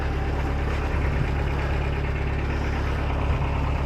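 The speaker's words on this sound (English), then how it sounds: "Into neutral and then some forward revs" A boat engine idles in neutral, then revs forward, with a steady, loud, rumbling drone, its pitch holding fairly even throughout with slight surges.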